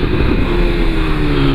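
A BMW S1000R motorcycle fitted with an Atalla header and Akrapovic exhaust tip runs close by, giving a loud, steady engine drone with no talking over it.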